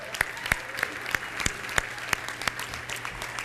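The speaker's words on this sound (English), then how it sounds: "give him a round of applause." A round of applause for a guest at a presentation comes through faint and distant, a sparse series of separate claps at a fairly regular pace over a quiet background.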